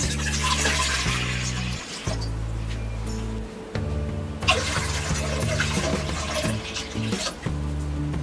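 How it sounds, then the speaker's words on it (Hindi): Water is poured into a large cooking pan on a gas stove for pasta, a continuous close gushing splash in two pours with a short break between, and no voices. "ये बड़े पैन में डालेंगे हम ये 4 कप पानी"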